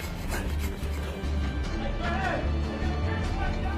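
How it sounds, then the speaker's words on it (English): A hacksaw blade rasps back and forth against toughened steel prison bars, a steady close scraping that runs throughout. "The hacksaw blade wasn't cutting through the bars."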